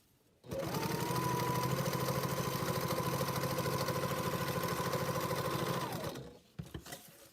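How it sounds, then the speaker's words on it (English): A sewing machine stitches through fabric for a travel packing cube, its motor running in a steady, loud, rapid hum for about five seconds before stopping, with a few soft clicks afterward. "when I come back to the machine and continue sewing at the halfway point from the horizontal side coming down now"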